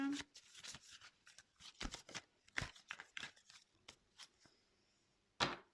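Tarot cards being shuffled by hand, a run of quick papery riffles and slaps coming in uneven bursts up close, ending in one sharp final snap.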